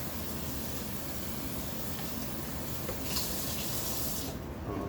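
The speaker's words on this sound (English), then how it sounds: "I'm gonna put some more water in here" Tap water pours steadily into a pot while cooking lobster tails in a kitchen, a constant close hiss and splash that keeps a fairly even level throughout and changes tone slightly near the end.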